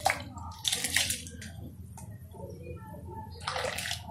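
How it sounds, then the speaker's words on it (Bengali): Washed mung dal tipped into hot water in a wok, giving a couple of short splashy bursts and wet rustling, then a quieter pause and another splash near the end. "আমি কড়ায় জল গরম করে নিয়েছি, তার মধ্যে ধুয়ে রাখা মুগ ডাল দিয়ে দিচ্ছি।"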